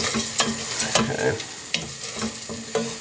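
Risotto rice stirred in a pan while the wine cooks off, with a soft steady sizzle broken by repeated scraping strokes of the spoon, close and alone.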